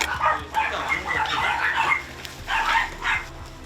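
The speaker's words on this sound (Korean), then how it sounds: "날카롭게 짖어대는 개들과 문 앞에 쓰러진 한 녀석" Several dogs, Spitz among them, bark sharply and aggressively inside a filthy, trash-filled house, with repeated overlapping yaps and barks in uneven bursts, fairly close and loud.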